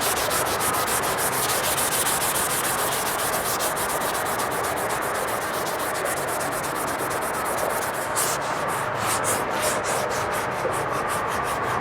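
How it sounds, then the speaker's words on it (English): Continuous rapid back-and-forth rasping of a sanding sponge scrubbing primed metal panels on a 1991 Chevrolet G20 van body, close and steady throughout, with quicker strokes toward the end and no talk. "Let's come in with our sanding sponge."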